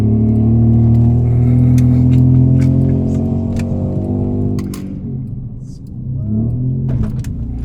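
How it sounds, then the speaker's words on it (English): A car with an automatic transmission shifted manually, its engine droning loud and close with steady harmonic tone, then dropping and rising again around a rough gear change, with scattered ticks and clicks. "That's a rough shift."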